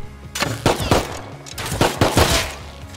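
Gunshots ring out in the survival video game Rust: several sharp, loud cracks in quick succession, some doubled, close by and without speech.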